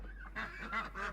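A goose honking close by, a quick run of three or four nasal honks in about a second, fairly faint and with no speech over it.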